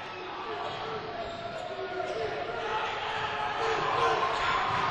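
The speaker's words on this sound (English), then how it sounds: "It's an intimidating, loud crowd." A loud, intimidating crowd at a high school boys basketball game between St. Paul Academy and Mounds Park Academy, a dense continuous roar of many voices that swells slightly toward the end, with commentary under it.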